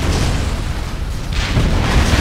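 A destroyed anti-air gun exploding in a combat flight video game, a loud, dense rumbling blast that fills the whole brief moment, with a second surge of noise toward the end.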